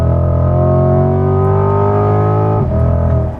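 A 2020 C8 Corvette accelerates hard from close by, its engine droning loudly and climbing steadily in pitch before a sharp upshift briefly drops the note, then it pulls on again.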